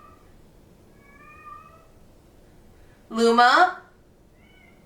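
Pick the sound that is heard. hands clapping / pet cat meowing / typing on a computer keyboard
pet cat meowing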